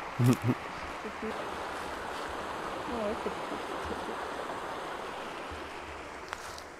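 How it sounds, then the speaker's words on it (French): A river flows close by a campsite on a US van-life road trip, giving a steady, even rush of water that fills the whole stretch, with a brief murmur of a voice near the start. "Et on dirait qu'il y a une rivière qui passe là."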